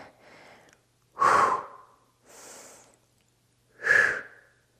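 Heavy breathing during a dumbbell triceps exercise: loud, close exhales through the mouth alternate with softer inhales, four breaths in a slow, even rhythm with no talk.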